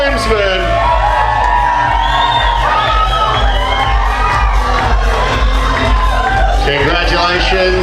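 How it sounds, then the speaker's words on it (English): Wedding guests cheer, whoop and shout loudly at the close of a ceremony, a dense, excited crowd roar with voices rising throughout and music or chatter mixed in. "Keep the applause going for their support team,"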